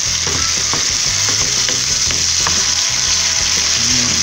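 Garlic and onion fry loudly in a pan, with a steady, dense sizzle and the scrape and clatter of stirring breaking through the hiss all along; no voices.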